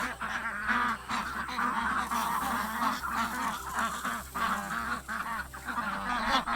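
Ducks and geese on a farm honking and quacking steadily in a dense, close chorus, with calls overlapping throughout and no pause.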